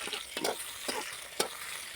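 Fish fries in a pan with a steady, close hiss of oil, broken by several scraping stirs at irregular intervals, and no talking.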